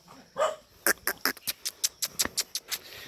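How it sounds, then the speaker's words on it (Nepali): Dogs bark above at a hillside ashram, a quick series of about a dozen sharp yaps, fairly faint and somewhat distant, with no talking. "माथि चाहिँ कुकुरहरू छ, भोक्यो"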